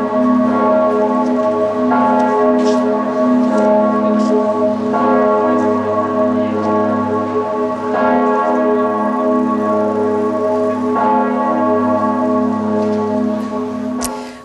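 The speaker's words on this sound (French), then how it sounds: "le glas de la cathédrale de Strasbourg a sonné" The bells of Strasbourg Cathedral toll a death knell at midday on a day of national mourning, with slow, regular strikes ringing loud and resonant over a continuous humming bell tone.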